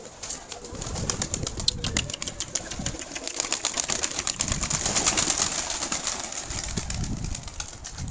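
Pigeons flying low over a rooftop, with rapid fluttering wingbeats sweeping close past amid outdoor background noise.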